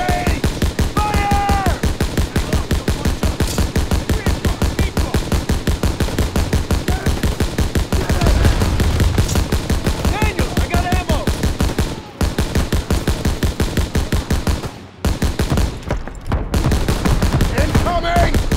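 Dense, continuous rapid gunfire in a Call of Duty: WWII battle in the Hürtgen Forest, Germany, 1944, with loud machine-gun bursts and rifle shots nearly nonstop and shouted voices mixed in.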